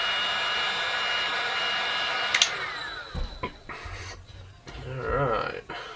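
A heat gun blowing a steady, loud hot-air roar while heating vinyl wrap on a Ford Fusion fog light, close up, followed by faint handling noises and rustling as the airflow shifts.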